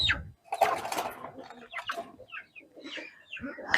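Young two-month-old chickens and cockerels in a poultry yard cluck and squawk in short, irregular bursts at close range, with some scratchy busy noise in between and no talk.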